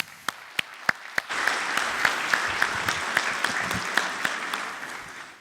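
Audience at the Future Greenland 2015 conference gives a guest speaker a hand: a few sharp separate claps at first, then a full, steady round of applause from a sizable crowd indoors.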